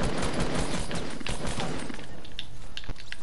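Gunfire in a Fortnite battle royale match, a rapid crackling volley of shots packed close together and fairly loud, thinning into scattered sharp cracks toward the end.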